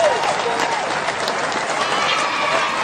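A Chicago audience at a freestyle and artist interview show breaks into loud, continuous applause for a rapper, a dense wash of clapping and crowd noise filling the whole moment.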